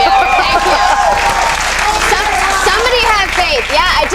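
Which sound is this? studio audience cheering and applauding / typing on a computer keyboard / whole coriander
studio audience cheering and applauding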